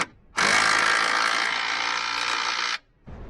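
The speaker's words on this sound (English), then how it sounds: "So I'll just rattle that tight with the impact and then I'll check it again with the ratchet." An impact gun rattles a control arm bolt tight on a Chrysler PT Cruiser, one long loud buzzing burst of about two and a half seconds, with a quieter mechanical start at the very end.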